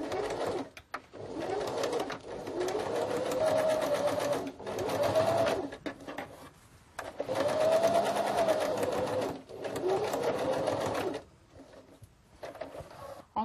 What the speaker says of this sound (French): je vais commencer par coudre un côté entier